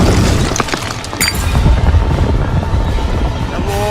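A deep, heavy boom from a night-time explosion in Blitar, Indonesia, rolls on with a long rumbling tail and scattered crackles, loud and distant-sounding.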